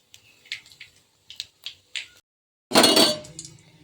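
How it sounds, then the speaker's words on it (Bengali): Garam masala, cumin and dried chilli hit hot oil with a sudden loud sizzle that slowly fades, after a few light metallic clinks of utensils against a pan. "গরম মশলা, জিরে আর শুকনো লঙ্কা দিয়ে আমি একটু ফোড়ন দিয়ে দিলাম।"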